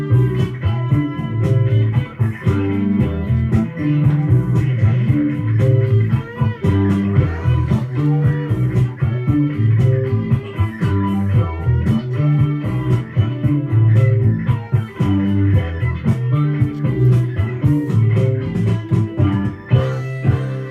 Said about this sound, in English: Surprisingly, this was kind of some funk, rock and roll funk.